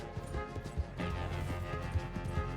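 Horse hooves thudding in a regular gait while riding on horseback in a video game, a short run of soft, evenly spaced beats close by.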